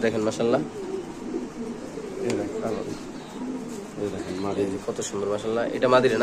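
Pigeons in a seller's loft coo repeatedly at close range, their low rolling calls running beneath steady conversation between two men.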